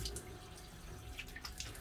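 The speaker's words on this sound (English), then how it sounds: "Rinse from fingertips to elbows and away from the body, letting water drip from" Tap water running at a hospital sink during a surgical scrub, as hands and forearms are rinsed fingertips to elbows, a steady faint splashing stream with light drips, soft and continuous.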